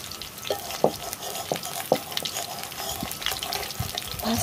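Lentil fritters (dal bora) frying in hot oil, a continuous sizzle broken by a few sharp clinks and scrapes as they are turned over, with no speech.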